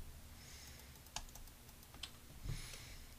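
Someone types commands on a computer keyboard while drafting a road frontage topo in AutoCAD Civil 3D, with a few sparse, faint keystroke clicks over a quiet room hum.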